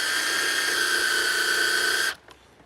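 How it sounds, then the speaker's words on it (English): A power drill whines steadily at high speed, driving a screw into a small piece of wood, then stops abruptly near the end, leaving a couple of faint clicks. "so I just put the drill in reverse, right?"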